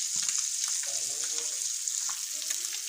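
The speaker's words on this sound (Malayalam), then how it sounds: "ഞാൻ മീൻ വറക്കാൻ വെച്ചേക്കണം" Fish frying in oil in a pan, a steady hiss and sizzle with small crackles and pops, close by and moderately quiet, with faint clinks under it.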